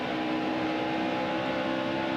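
A race car engine under steady throttle in the NASCAR Heat Evolution video game at Pocono, a continuous droning whine with stable harmonic pitch, loud and close, no voices.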